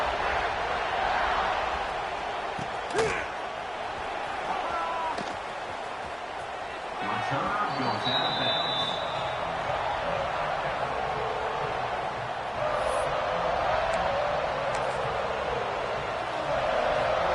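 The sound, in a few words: football stadium crowd buzzing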